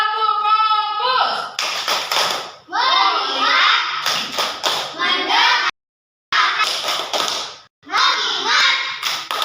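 Children in a classroom play a rhythmic "tepuk fokus" clapping game, with bursts of sharp patterned claps alternating with chanted words and a few brief pauses.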